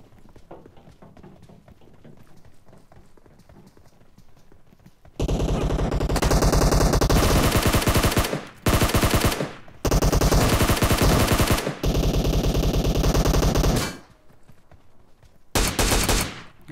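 Sustained bursts of automatic gunfire in a PUBG Mobile squad fight, loud and dense, broken by short pauses, after a few seconds of quieter footsteps and ambience.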